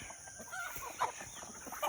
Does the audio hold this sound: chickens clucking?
yes